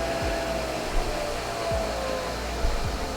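A Nespresso Vertuo coffee machine running, a steady loud whirring hum with a faint rising whine and a few low thumps, continuous and close with no voices.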